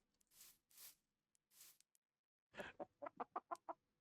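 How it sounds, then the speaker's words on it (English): A chicken in Minecraft clucks, first a few soft breathy calls, then a quick run of six sharp clucks, clear and close against silence. "I guess I've just never heard the new chicken sounds"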